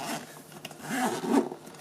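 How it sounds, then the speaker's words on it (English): Zippers on a Grams28 154 City Pack being pulled open along the main compartment, a few short rasping zips at close range, moderately loud, with no talking. "It's got these nice zippers."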